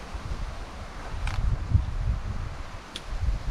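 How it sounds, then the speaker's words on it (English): Soft, steady wind breathing across an open hiking trail in the Carpathian Mountains, a low continuous rush with faint rustles and a couple of brief higher gusts, no voices. "All you can hear is the peacefulness of the wind."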